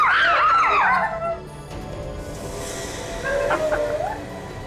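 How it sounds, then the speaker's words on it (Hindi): Shrill, wavering screams from several people ring out loudly at first, fade, then return more faintly over a background hum. "इन लोगों की चीखें सुनी आपने?"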